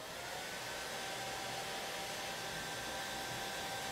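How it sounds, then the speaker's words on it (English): A hair dryer blows steadily and alone, a constant whooshing hiss at close range, used to dry an oil paint rendering. "Hit this with the hairdryer."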